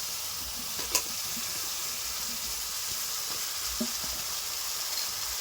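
Fried pumpkin-flower balls sizzle in a spice paste in a pan, a steady close hiss of frying with a couple of soft stirring knocks and no talking.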